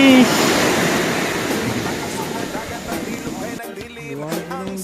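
Sea waves wash onto a beach in a loud, steady roar with wind buffeting the microphone, then ease off near the end as a voice begins talking over the surf.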